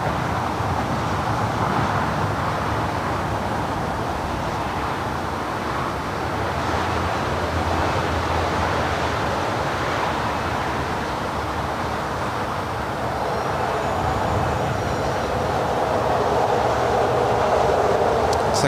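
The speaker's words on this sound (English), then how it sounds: "more than likely our final takeoff of the night, United Airlines Flight 923 heading to London Heathrow. It's an 787-10 Dreamliner." A Boeing 787-10 Dreamliner takes off at LAX at night, heard as a broad, steady jet roar from a distance. The rumble swells gradually over about eighteen seconds without pause. No one speaks.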